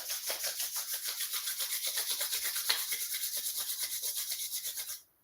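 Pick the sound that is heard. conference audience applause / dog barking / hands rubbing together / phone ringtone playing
hands rubbing together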